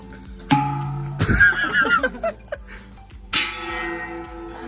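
A large temple gong struck once and then again, each a loud metallic hit followed by a ringing, wavering resonance that slowly decays.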